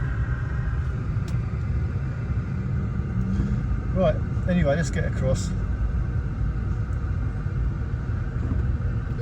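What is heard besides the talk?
road traffic on a main road in the Philippines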